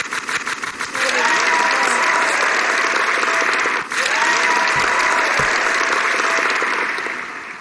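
Applause sound effect dropped into a Minecraft Hexxit gameplay episode, a dense, steady wash of many hands clapping that swells in after a second and holds loud and alone until easing near the end.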